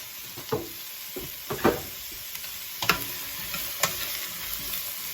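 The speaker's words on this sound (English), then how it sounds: "We'll let this saute for a couple of minutes." Carrots and celery sauté with garlic in a pan, giving a steady low sizzle broken by several sharp scraping stirs spaced a second or so apart, close and fairly quiet.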